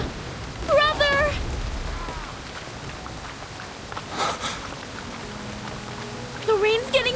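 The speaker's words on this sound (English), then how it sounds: "The rain's getting heavier!" Heavy rain from the video game Reverse: 1999 falls as a steady, dense wash throughout, with voices speaking over it and brief louder swells.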